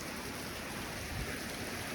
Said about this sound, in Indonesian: Hujan panas.